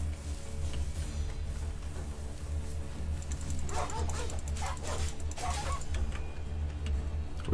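In Assassin's Creed Odyssey, dogs bark in a cluster of yips and woofs midway through, set against a steady low game ambience.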